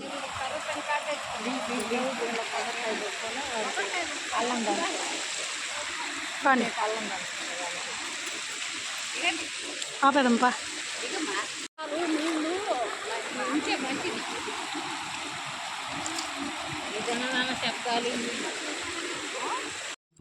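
Cold, clear water of a waterfall and stream rushing in a steady broadband roar throughout, with people talking over it.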